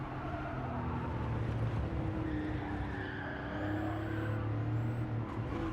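Steady car engine roar from a driving game, sustained and loud throughout with droning tones and slight pitch shifts as the car is spun around, no talk.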